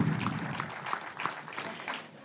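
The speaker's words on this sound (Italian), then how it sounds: "un altro grandissimo applauso a questi grandi campioni" Brief audience applause at the Italian Sportrait Awards 2022 gala for a group of sports champions: a short, fairly faint patter of clapping with a few sharper individual claps.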